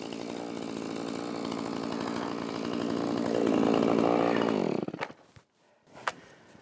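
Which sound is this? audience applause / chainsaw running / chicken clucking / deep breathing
chainsaw running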